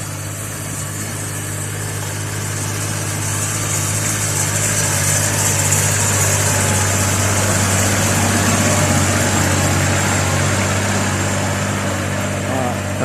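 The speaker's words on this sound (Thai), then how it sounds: "แต่ตอนนี้จะใช้ระบบไฮดรอลิก ในการ ปั่นเม็ดข้าวลง" A tractor idles and rumbles steadily nearby while driving a hydraulic rice seed broadcaster, a continuous loud engine drone with mechanical whir and no clear break, with voices faint underneath.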